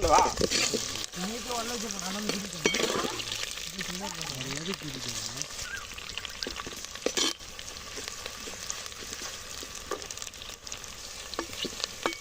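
Onion and garlic sizzling in a pan, a steady bright frying hiss with stirring scrapes running throughout, while people talk over it.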